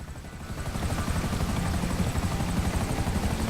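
Helicopter in Grand Theft Auto V flying low near water, its rotor chop and engine whine swelling from quieter to a loud, steady, close throb, with no voices.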